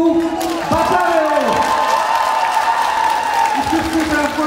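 Concert audience applauding and cheering to welcome the band, a dense sustained wash of clapping under a loud announcer's voice speaking over it.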